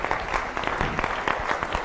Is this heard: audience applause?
yes